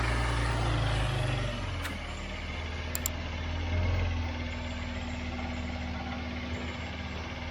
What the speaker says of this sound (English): I've misdiagnosed an engine noise in my 100 series Landcruiser